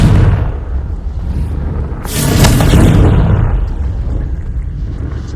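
Confringo fire spell in Hogwarts Legacy bursts with a loud explosive boom midway through, over continuous rumbling combat noise.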